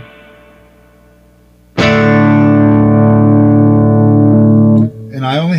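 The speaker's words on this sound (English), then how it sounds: "Let's turn on the reverb." A sustained distorted electric guitar chord through a Monoprice Stage Right 15-watt tube combo amp with reverb rings out loud with a thick, reverberant tail, following a quieter fading note, before a voice briefly starts speaking.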